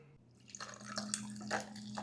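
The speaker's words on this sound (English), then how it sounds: "I'm gonna pour the coffee over." Coffee poured over ice in a glass for an iced Einspänner, a soft, close splashing and trickling stream with faint clinks, over a low steady hum.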